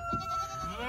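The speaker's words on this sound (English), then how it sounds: "You have such a giant goat." A large goat bleats once, close and loud, a wavering nasal cry lasting about a second with no talking over it.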